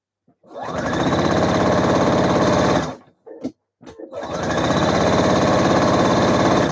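A home sewing machine runs fast and loud while stitching a narrow hem on a blouse, whirring steadily for about two and a half seconds, pausing with a few brief clicks, then starting up again in a second long run.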